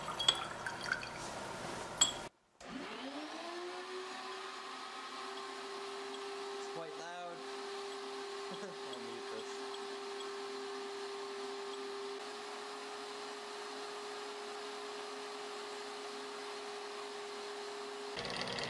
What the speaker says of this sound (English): So now I'm going to do a vacuum filtration on it to separate it from all the magnesium sulfate.